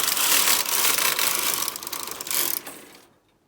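A Brother KH-270 Electroknit chunky knitting machine carriage slides across the needle bed to knit a row, a loud, close, rattling mechanical whir lasting about three seconds before stopping abruptly.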